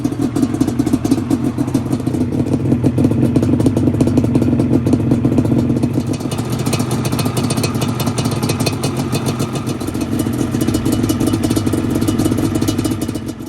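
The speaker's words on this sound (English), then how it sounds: "I just took the bike for a spin" A Yamaha Banshee motorcycle engine runs steadily on a short ride around the block after a pancake bearing install, a continuous loud, buzzing two-stroke drone with some clatter and no voices.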